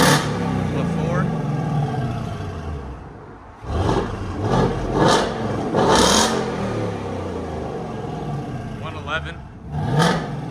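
A 2024 Ford Mustang GT with a 5.0L Coyote V8, a Roush H-pipe and straight pipes revs loudly in several sharp bursts over a rumbling idle, while people talk nearby.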